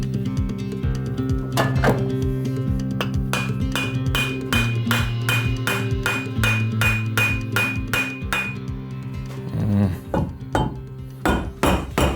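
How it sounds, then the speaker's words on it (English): Rapid, close metallic tapping drives a BMW R80 motorcycle steering stem into its triple clamp, a steady run of ringing hammer strikes over a low background hum, slowing to a few scattered knocks near the end. "But first, let's put the stem back into the triple clamp."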